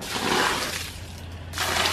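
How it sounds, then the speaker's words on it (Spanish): Dirty mop water tossed out from a bucket across the front of a house after mopping, a close, loud splashing rush that fades midway and then surges again in a second throw. "ya después de trapear, como siempre, siempre vengo y tiro por aquí el agua."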